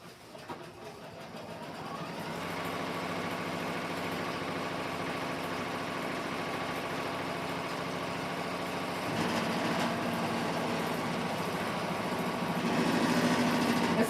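An embroidery sewing machine runs while its hoop shifts, producing a fast, steady mechanical whirring and chattering that is moderately quiet, swelling slightly in the middle and again near the end.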